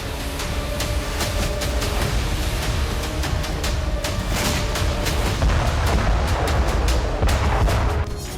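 Russian artillery shelling of Ukrainian cities, a dense barrage of sharp repeated blasts and thuds over a rumbling roar, loud and sustained without pause.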